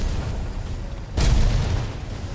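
One heavy shell explosion bursts midway through a low rumbling battlefield ambience in the War Thunder tank game, then a deep boom lingers.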